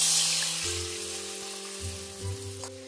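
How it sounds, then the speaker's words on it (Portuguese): White wine poured into a hot pan of rendered guanciale fat, bursting into loud, close sizzling and frying that settles into a steady crackle. "Agora entro aqui com o vinho branco."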